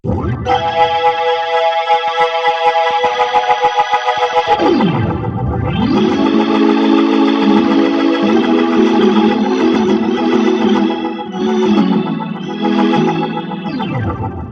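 Nord Stage 4 Hammond B3 organ patch with overdrive at about 6.5, sustained gritty chords with a brief dip and a low swell midway, continuous and loud with no talking.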